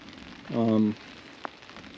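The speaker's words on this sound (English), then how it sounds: "it's raining a lot more now" Rain falls on a campsite tent at Wall Lake as a soft, steady patter throughout. A brief voiced sound and a single sharp tick stand out over it.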